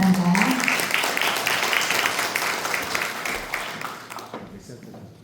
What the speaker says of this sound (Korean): 뜨거운 박수로 맞이해 주시길 바랍니다